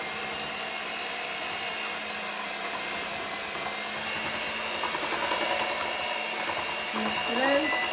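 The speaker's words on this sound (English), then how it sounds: "we're gonna go ahead and use a hand mixer. Start it up" Electric hand mixer whirring steadily through cookie dough ingredients, a continuous close motor drone that grows slightly louder near the end, with a voice speaking faintly underneath.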